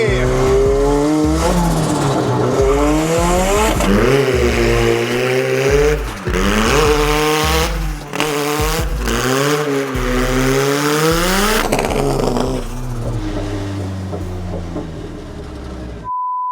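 Mazda MX5 drift car engine revving hard on a track, repeated rising and falling rev sweeps with brief gaps as the car shifts and slides, loud and close, a voice speaking briefly over it.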